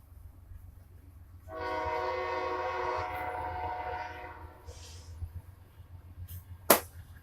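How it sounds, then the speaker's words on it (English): Train passing a crossing, its horn sounding a long sustained chord over rumbling wheels, then fading, followed by a sharp loud crack near the end. "Okay, there's a train."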